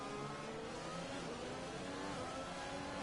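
Racing car engines roar steadily in a sim racing league event, with a McLaren among the field; a dense, continuous mid-pitched engine drone holds throughout with no clear pauses.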